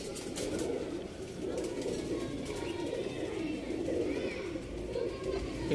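A male pigeon coos in a loft, a low continuous throaty murmur mixed with the cooing of other birds nearby, steady and fairly quiet throughout.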